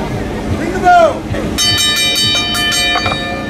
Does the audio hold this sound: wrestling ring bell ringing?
yes